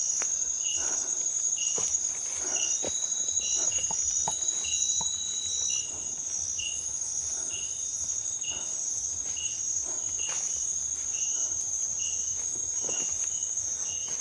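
A chorus of crickets trills without pause around a nighttime campsite, bright and constant, with a few soft taps and rustles underneath.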